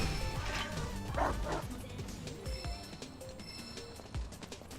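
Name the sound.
dog barking in Final Fantasy VII Rebirth video game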